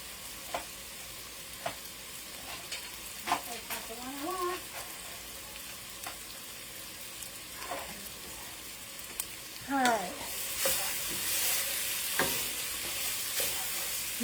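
Homemade chili stirred with a big wooden spoon in a pot, soft scraping strokes spaced through a low simmering sizzle, fairly quiet and close, with a few brief clatters and no talk.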